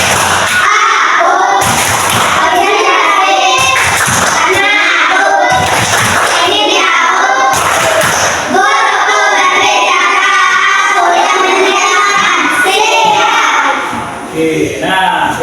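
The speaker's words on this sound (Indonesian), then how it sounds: "Tepuk konsentrasi." Schoolchildren in a classroom performing the concentration clapping routine, sharp loud group hand claps in rhythmic bursts mixed with chanted children's voices and some thumps, close and continuous throughout.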